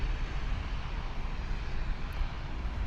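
Air Canada Express and Air Canada Rouge airliners at Toronto Pearson airport, heard as a continuous broad jet engine rumble, steady and moderately loud, with no talking.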